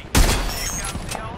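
Gunfire in the video game Apex Legends, a short loud burst of rapid shots that rings out briefly over the game's background sound.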